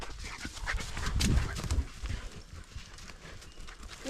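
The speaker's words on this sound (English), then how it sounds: "This is our guard dog." A guard dog panting at a campsite near a tent, a steady rough breathing rhythm that swells and fades close by, with faint rustling and no talk.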